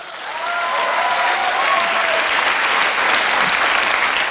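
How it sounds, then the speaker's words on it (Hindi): Audience applause during a motivational speech, rising quickly from near silence into a loud, dense, sustained wall of clapping from a large crowd that holds steady to the end. "इस पर तालियां बजाओ।"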